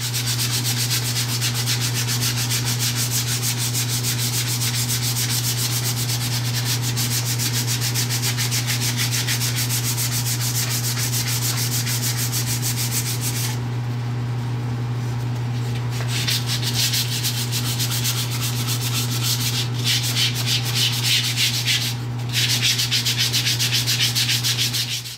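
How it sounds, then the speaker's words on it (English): A wooden spatula is sanded by hand up to 220 grit, producing steady rhythmic rasping strokes over a constant low hum, close and continuous, with no voices. "give it a really good sanding all over, right up to 220 grit"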